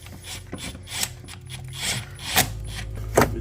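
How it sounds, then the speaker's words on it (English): A hose strap is ratcheted tight on a Kia Sorento/Sedona 3.3L GDI engine, giving close, mechanical clicking and ratcheting in short bursts over a low steady hum, with no talk. "So now tight the strap."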